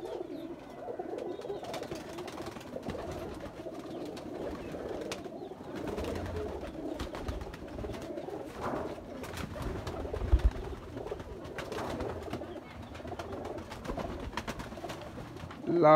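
Over 100 pigeons in a breeder's flock coo steadily in overlapping low murmurs, a continuous close flock chorus with faint rustling throughout.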